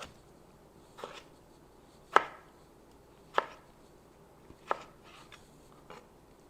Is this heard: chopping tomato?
yes